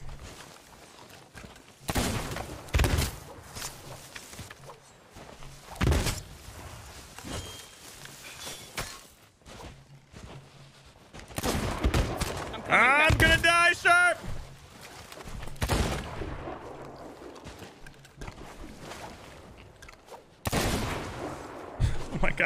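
Gunfire in a Sea of Thieves PvP battle comes as scattered sharp shots and bursts, some loud and some more distant, mixed with footsteps and clatter while people talk over it.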